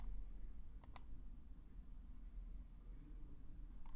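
Two quick computer mouse clicks close together, crisp and faint over a steady hiss, with one softer click near the end; no voices.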